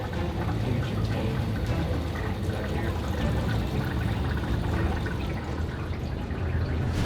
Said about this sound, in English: Making a lot of weird bubbling noises.